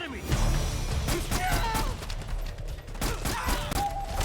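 Gunfire crackles in the stealth action game Metal Gear Solid 4, a dense burst of close shots and impacts mixed with battlefield clatter, while voices call out over it.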